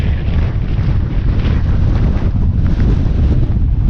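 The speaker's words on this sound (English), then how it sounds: "My God, it's windy." Strong gusts of around 46 mph roar across an exposed hilltop at a wild camp in wet, stormy weather, a loud, continuous rumbling buffet battering the microphone with no talk.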